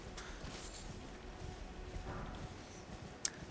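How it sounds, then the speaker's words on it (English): Horse hooves clip-clop softly and steadily as a mount is ridden through a fight in the Elden Ring video game, low in a busy game soundscape with a sharp brief hit near the end. "don't jump off Torrent yet. Stay on Torrent and ride by and fight this guy"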